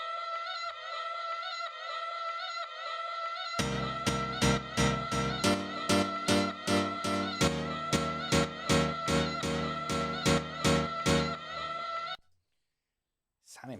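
Piano keyboard idea for a ravey track played into Ableton Live: a held synth-like chord, then a run of rhythmic, evenly spaced staccato chord stabs with a low bass, close and loud, stopping abruptly into silence.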